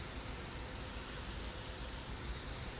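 Spray tool painting dirt terrain along a building's side in The Sims 4, a steady, even hiss of soft game noise that holds at one level for the whole stretch with no voices.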